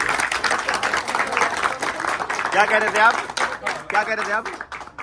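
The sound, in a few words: audience applause and clapping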